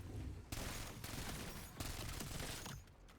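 A max fire rate assault rifle in Call of Duty BO7 Zombies fires long, rapid automatic bursts, loud and dense, broken by a few brief pauses between volleys.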